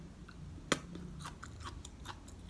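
Crunchy garlic scapes being chewed in a shrimp pasta, close and quiet, with a sharp bite near the start followed by a few soft, irregular crunches and no talking.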